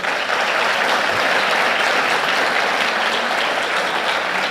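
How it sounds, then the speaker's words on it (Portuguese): Church congregation claps for Jesus during a sermon, a loud, sustained wash of dense applause filling the room with no voices over it. "Vamos aplaudir Jesus?"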